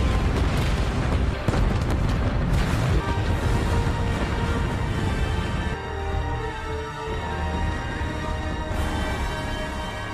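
Star Wars Death Star superlaser firing, followed by a massive explosion: a loud, sustained roaring blast with deep rumbling that swells early, then gradually fades into a lingering lower rumble, with no talk over it.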